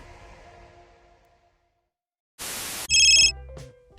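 An office telephone at an event rental business rings with a loud electronic burst, then a steady warbling ring after a brief quiet pause, alone with no talk.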